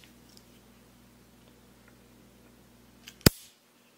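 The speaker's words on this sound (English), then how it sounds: "Nice little clickety-clack to it." A knife, aqua with a metallic shimmer, gives one sharp, close click near the end, with quiet room tone before it.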